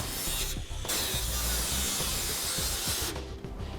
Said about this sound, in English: we're going to use an angle grinder with a cutoff wheel